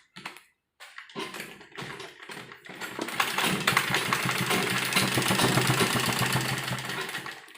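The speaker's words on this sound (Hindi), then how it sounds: "इस तरह से सीधी सिलाई देकर चलेंगे।" A sewing machine runs a straight seam along fabric for a frock, starting with a few short bursts and then settling into a steady, fast mechanical rattle up close, with no talking.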